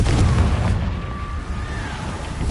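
A Confringo spell explodes in Hogwarts Legacy, a deep rumbling boom that hits at once and slowly fades over a couple of seconds with a faint whistling tone drifting through the decay.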